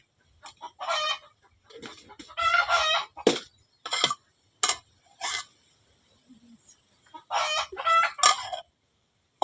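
Chickens cluck in short, scattered bursts close by on a farm, and a rooster crows amid the clucking, with quiet gaps between calls.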